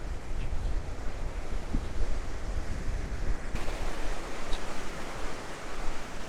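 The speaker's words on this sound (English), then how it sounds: "Pretty good waves coming in." Ocean surf washing onto a Lake Superior–region shoreline in Michigan's Upper Peninsula, a steady broadband roar of breaking waves with wind buffeting the microphone, continuous and fairly near, no voices.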